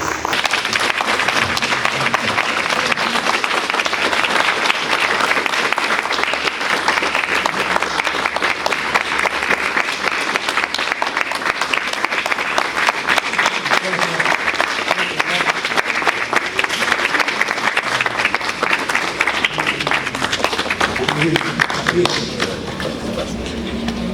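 An audience claps warmly and continuously, a dense sustained applause that stays strong from start to finish with no pauses.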